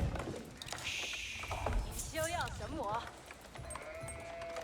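Sheep bleat in the Age of Empires IV strategy game, a wavering nasal call rising over steady game ambience and background music, with a second fainter bleat following.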